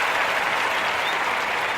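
A short burst of dense, even applause with no breaks, sounding like a full crowd clapping at once, loud and close throughout.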